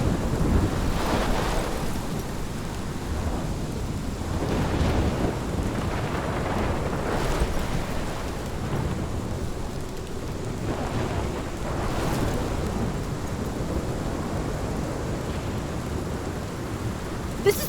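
Heavy rain and rolling thunder from a storm in the video game Life is Strange, a steady loud downpour with low rumbles swelling and fading over the whole stretch, no voices.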